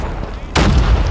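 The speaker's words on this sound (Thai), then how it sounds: "คว้างระเบิด" A grenade explosion in Call of Duty Mobile bursts loudly about halfway through, a sudden broadband boom that holds steady to the end.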